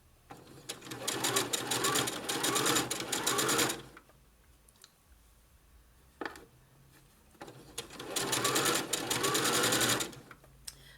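Domestic sewing machine running through fabric in two bursts, each a few seconds of fast, loud, close stitching, separated by a quiet gap with a brief click.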